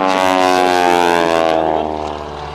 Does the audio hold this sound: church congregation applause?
no